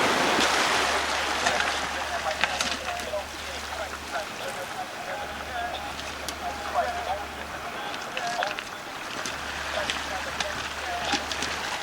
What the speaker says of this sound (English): All the rocks here are like constantly in a tumble because of the waves.